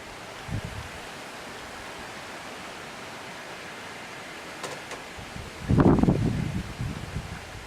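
Wind blows outdoors across the microphone, a steady broadband rush with a couple of stronger buffeting gusts, heard alone without speech.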